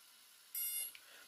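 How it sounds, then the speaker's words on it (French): A DJI Spark drone battery gives a single high electronic power-on beep for about a third of a second over faint background hiss, followed by a softer brief blip. "là j'entends le premier bip"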